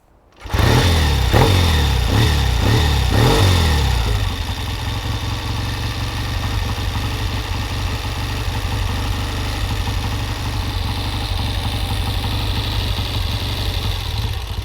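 A 1965 Triumph Bonneville motorcycle engine fires up after a few rising revs, then settles into a loud, close, steady throbbing idle that runs on alone for over ten seconds.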